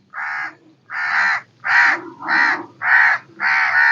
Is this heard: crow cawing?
yes